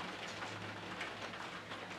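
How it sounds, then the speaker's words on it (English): Steady rain falling on a garden vegetable plot, a continuous soft hiss of drops with no talk, heard close and even throughout. "I've interrupted proceedings partly because it started to rain"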